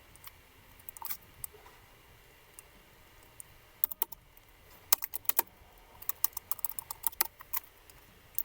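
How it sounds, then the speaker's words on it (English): Typing on a computer keyboard, heard as bursts of close, crisp key clicks. They start sparse and grow into quicker runs of tapping, with no voices. "I'm literally just trying to type, and it's not letting me"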